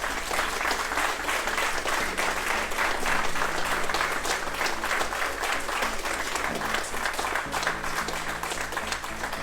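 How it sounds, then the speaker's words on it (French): An audience at a Brazilian jiu-jitsu black belt ceremony applauding steadily, a dense, continuous clapping that holds at full strength throughout, with faint voices mixed in. "On l'applaudit juste pour ça."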